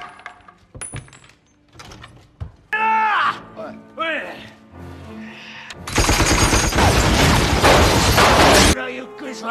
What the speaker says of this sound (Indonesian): Tiba-tiba, Kanryu melancarkan serangan dengan senapan mesinnya.